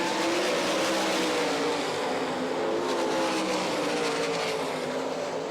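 World of Outlaws sprint cars roaring through a heat race at Rossburg, Ohio, a steady, loud wall of engine noise from a pack of cars circling the dirt speedway without letup.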